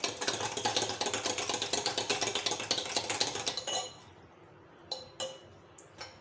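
Beaten eggs for a fluffy vegetable omelette are whisked in a bowl with a steady run of quick, rhythmic clinks for nearly four seconds. The clinking then stops, and a few faint, isolated taps follow in the quiet.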